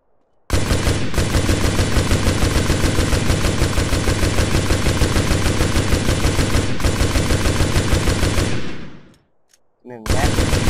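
Sustained automatic gunfire aimed at a car in the MTA DayZ video game, a loud, rapid, even stream of shots lasting about eight seconds that stops abruptly, followed by a brief restart.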